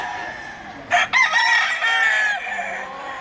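A black bulik gamefowl rooster with a brass back crows once at a gamefarm. The call is loud and close, with a sharp start and a long, drawn-out harmonic tail.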